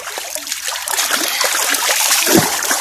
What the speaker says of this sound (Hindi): अभी इसके ऊपर पानी डालेंगे